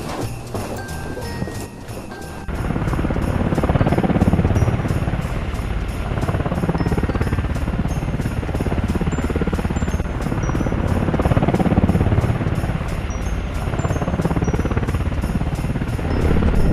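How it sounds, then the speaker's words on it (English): A helicopter drones steadily and loudly for most of the stretch, its rotor roar starting after a quieter opening with faint chimes, constant and close. "get in your chopper and visit Spooville"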